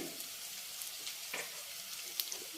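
Onions fry in a pan, a quiet close sizzle with a few soft scrapes and taps from stirring, brief and without talking.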